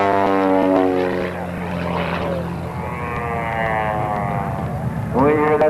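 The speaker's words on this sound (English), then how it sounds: "we hear that lag-humming six-cylinder engine pumping out 260 horsepower" A propeller airplane with a six-cylinder, 260-horsepower engine flies past at an air fair in Kissimmee, Florida, giving a steady droning hum that swells and fades, while a voice talks over it throughout.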